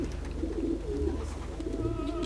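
A pigeon coos in the game Assassin's Creed II, a low repeated burbling call heard clearly and alone over a faint steady background hum.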